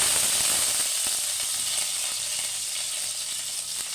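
Fenugreek seeds and curry leaves sizzling in hot oil for a Kerala eggplant and dried fish theeyal, a loud, dense, continuous hiss and crackle close by, with no talking.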